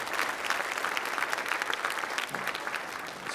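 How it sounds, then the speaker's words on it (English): Audience at a Christian school event applauding a piano accompanist, a dense, continuous wash of clapping from many hands, fairly distant and even in level. "Go ahead, give her a little round of applause there."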